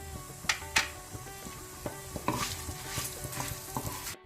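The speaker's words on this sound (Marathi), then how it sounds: "हो मसाला भाजिल्लो पुरो" Masala of urad dal and mustard seeds dry-roasting in a pan, a soft continuous crackle with sharp pops and spoon scrapes against the metal, fairly close and unaccompanied by talk.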